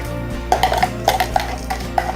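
Crushed tomato is added to a cooking pan for a restaurant-style chicken do pyaza, with a few sharp metallic clinks of a utensil against the pan over a steady low sizzling hum.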